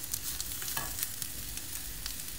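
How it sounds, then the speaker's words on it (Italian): Quail legs and stuffed rolls browning in a pan: a steady crackling sizzle with small sharp pops scattered throughout, close and moderately loud, with no voices. "Adagiamo le cosce, gli involtini e iniziamo a rosolare."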